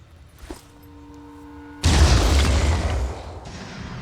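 A grenade blast in the tactical game Phoenix Point: a single loud, deep boom bursts in sharply and rumbles on for about a second and a half before fading, after a quiet stretch with a faint steady tone.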